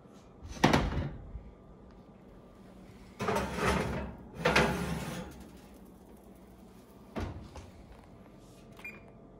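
An oven door thumping open and shut as a tater tot casserole goes in, several separate knocks and clunks spread over a quiet kitchen, with a faint rattle toward the end.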